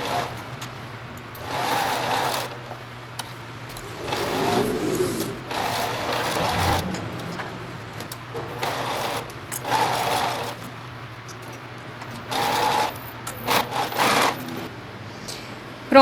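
A sewing machine stitching a plastic card wallet from the middle outward, in repeated short bursts of mechanical whirring separated by pauses, fairly close and with no voices.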